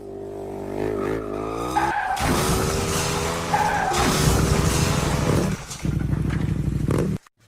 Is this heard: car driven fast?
yes